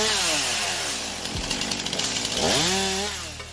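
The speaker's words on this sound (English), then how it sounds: "After being improved, the handheld chainsaw has been transformed into a semi-automatic tree cutter." A handheld chainsaw converted into a semi-automatic firewood tree cutter runs close and loud, its engine revving up and bogging as it bites through branches, steady drone broken by cutting surges.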